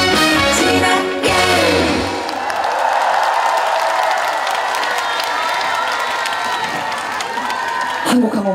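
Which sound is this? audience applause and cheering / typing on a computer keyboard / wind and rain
audience applause and cheering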